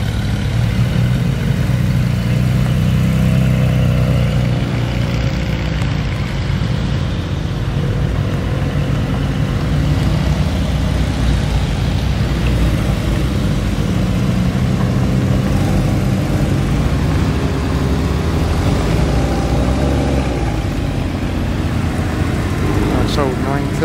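A Porsche GT4 arriving at the Simply Porsche show at Beaulieu National Motor Museum gives a steady, moderate engine drone, nearby and continuous, under constant chatter from onlookers.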